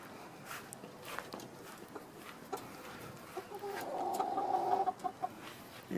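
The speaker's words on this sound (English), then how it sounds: "I just wanted to take you out here and let you see our chickens" Backyard chickens cluck softly in their coop, with scattered calls and a denser stretch of clucking near the end, fairly close, over quiet outdoor background.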